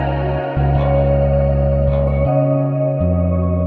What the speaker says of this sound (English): So let's get another modo bass right here.